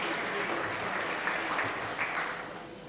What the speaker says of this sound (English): so a round of applause to you as well